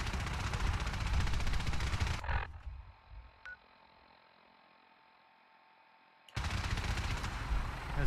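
Gunfire in the video game Fallout 4 comes in two loud, harsh bursts of rapid shooting, split by a few seconds of near silence.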